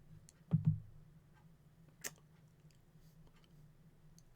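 A computer mouse clicks on an install button while setting up a custom league in Strat PC Baseball: a couple of small, close, dry clicks with quiet room tone between them.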